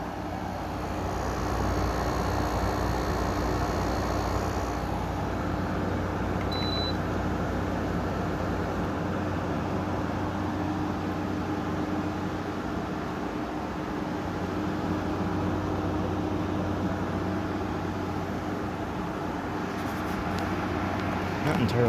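A GE 5,050 BTU window air conditioner runs with a steady, close, even hum and fan rush, with a slight chattery quality, and a voice speaks over it.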